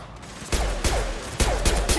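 Mass Effect combat gunfire, with heavy bursts of shots and sharp impacts cracking at irregular intervals over a loud, busy battle din.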